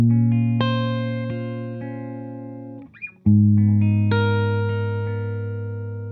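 A Gibson ES-335 electric guitar plays clean, dry chords with no reverb, sustained ringing notes that decay slowly, with a brief gap before a fresh strummed chord.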